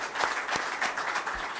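A crowd at an iftar (ftour) gathering claps in sustained, fairly dense applause for under two seconds, with a few sharper individual claps standing out.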